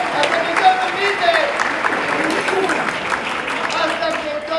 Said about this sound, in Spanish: demos un fuerte aplauso para el inicio